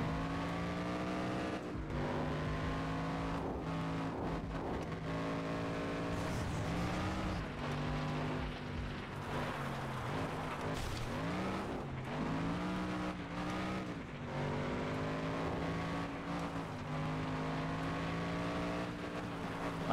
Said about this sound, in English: Okay, I'm just spinning out here.